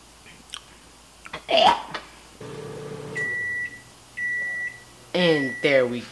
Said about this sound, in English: It's time to take it out of the microwave oven.